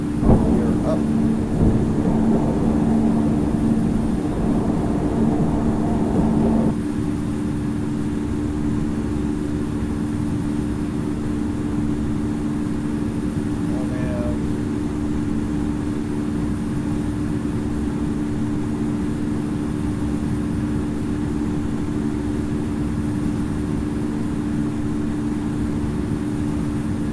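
An aircraft takes off in the Infinite Flight simulator on a flight from Wisconsin to Illinois. A loud, steady engine drone holds throughout, somewhat fuller in the first seconds, then a constant roar.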